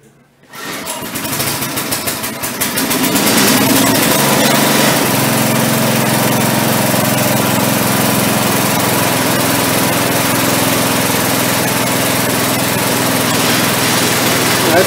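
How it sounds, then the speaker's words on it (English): A garden tiller's small engine catches after a brief pull and settles into a loud, steady, buzzing idle that runs unbroken through to the end. "I'm going to get the tiller going here so we can get that garden planted here"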